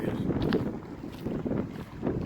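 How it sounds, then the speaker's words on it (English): Low, buffeting wind rumbles against the microphone in uneven gusts, swelling and easing over a couple of seconds with no voices. "It's kind of windy"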